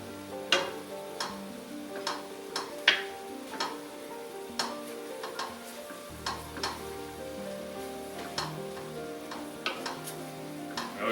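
Flour cooks in a pan for onion soup, a quiet sizzle running under regular scraping strokes as it is stirred, each stroke a light tap or scrape in a steady rhythm.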